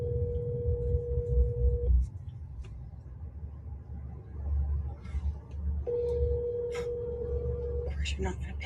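A phone call rings out unanswered, two long steady electronic ring tones separated by a gap, heard through a speaker with a low hum and muffled background murmur beneath.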